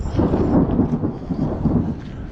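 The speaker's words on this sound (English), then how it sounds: "The first lightning strike has just occurred." Thunder from a nearby lightning strike in the mountains of Georgia rolls as a continuous low rumble, fairly loud and steady throughout, with a faint hiss of rain beneath.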